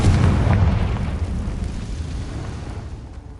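A Confringo blasting spell from Hogwarts Legacy bursts with a heavy, booming explosion up front, its rumble rolling on and slowly fading over a few seconds with no talking.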